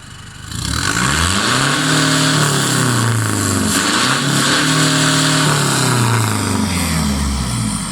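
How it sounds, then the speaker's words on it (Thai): A Toyota Vigo pickup fitted with a BRS exhaust pipe revs up loudly and close, two rising-and-falling surges over a steady engine drone, with no speech. "เดี๋ยวมาดูตอนเบิ้ลกันว่าเสียงเพาะแค่ไหนนะครับ กับท่อ BS ครับ"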